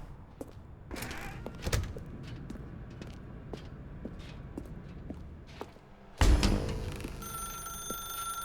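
In The Stanley Parable Ultra Deluxe video game, scattered footsteps and light thuds in a quiet room give way to a loud telephone that suddenly starts ringing, its bright, sustained tone continuing to the end.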